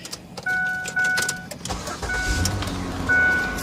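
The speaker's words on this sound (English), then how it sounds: "Go ahead and start the car" A 2006 Ford Freestyle engine cranks with chiming warning tones, then catches and settles into a steady idle close by, with no talking.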